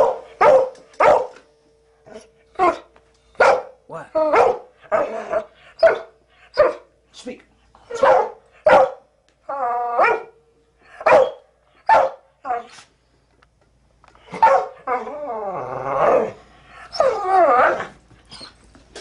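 A dog named in a studio barks repeatedly in short, loud bursts with a few whimpering, growl-like sounds, while someone talks and praises it between barks.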